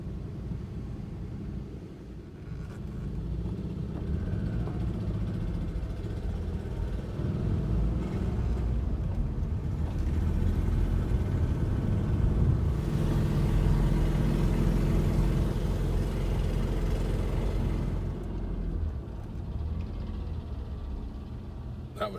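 A VW vehicle ahead on the road labours with a struggling engine, a low, strained rumble heard from inside a following car, steady and droning, with a person talking over it.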